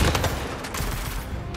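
Enemy gunfire in Marvel's Spider-Man 2 rattles in rapid, overlapping bursts, a dense and loud volley of shots filling the whole moment without any talking.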